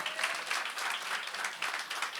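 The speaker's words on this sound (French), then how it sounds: "On l'applaudit, s'il vous plaît, on l'applaudit, il a réussi." Applause from a church congregation during an online Sunday service, a dense steady wash of many hands clapping close by for about two seconds with no voices.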